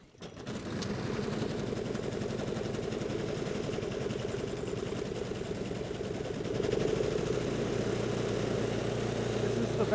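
A snowblower engine sputters to life on a winter sidewalk and settles into a close, steady, rapid putter, growing louder and stronger about two-thirds of the way through.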